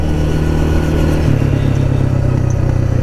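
A Kymco Maxxer 300 quad rides along a French countryside road, its engine droning loud and close with a steady hum and a slight shift in pitch partway through.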